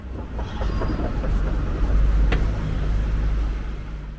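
A metro train moves through a station with a steady loud low rumble and rhythmic clickety-clack of wheels on the rails, plus a brief squeal partway through.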